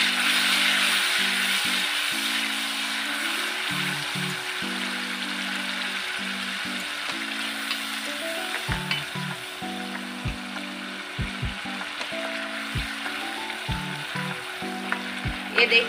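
Green chilli paste fries in a pan with a continuous crackling sizzle, joined by intermittent scraping and knocks of a spoon stirring against the metal.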